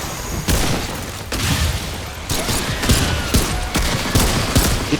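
NPC gunfire in a video game, bursts of sharp rapid shots and mechanical clatter in several loud volleys, alone without talk.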